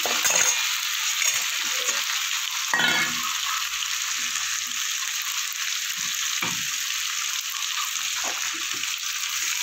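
Green chilli paste and a cumin, coriander and radhuni spice paste fry in a pan with a steady close hiss, broken by a few sharper bursts of spatter and stirring.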